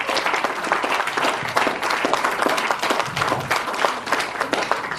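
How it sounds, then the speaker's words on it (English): A lecture crowd gives a thick, continuous round of applause for Mutabaruka, loud, even and unbroken for several seconds. "One more round of applause, please,"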